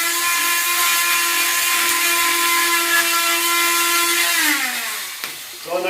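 Oscillating multi-tool cutting a wooden window extension jamb, a loud steady high-pitched buzzing whine that holds for about five seconds, then drops in pitch and cuts out near the end.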